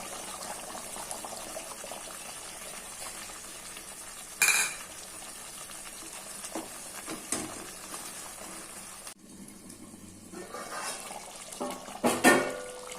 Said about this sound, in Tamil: ஒரு 5 நிமிஷம் சிக்கன் பாயில் ஆகட்டும்.